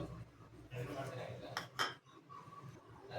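Gram flour is spooned into a bowl for paneer tikka, giving a few light clinks and scrapes of a spoon against the bowl, with two sharper taps near the middle, under a person talking.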